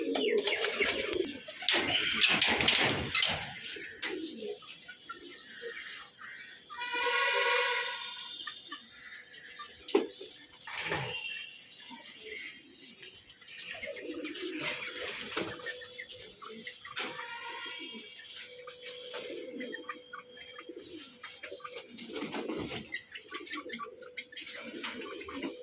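Several pigeons, including fantail pigeons kept for sale, coo in soft repeated rolling calls with some chirps and wing flutter, near and fairly loud, continuing over the whole stretch without speech.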